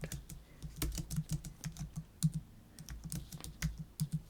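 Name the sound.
typing on a computer keyboard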